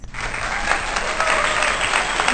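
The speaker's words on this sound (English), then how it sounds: "So a round of applause for him because he deserves it anyways" A couple's home audience breaks into steady, full applause that starts abruptly and continues evenly at close range.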